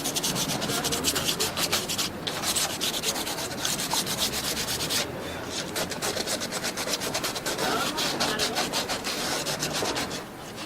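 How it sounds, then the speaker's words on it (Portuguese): Sandpaper rubs across the ends of PVC sewer pipes and the sockets of their fittings in continuous, close, rhythmic rasping strokes with no talk. "Depois você vai lixar as pontas dos tubos e as bolsas das conexões."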